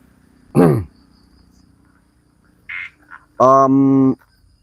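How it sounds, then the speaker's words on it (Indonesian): Frogs croak in a forest at night, a few separate calls spaced out by silence: a short swooping croak, faint chirps, then a longer buzzing, harmonic croak near the end. "Namanya ada di hutan, suara kodok. Suara kodok, sahabat, banyak sekali."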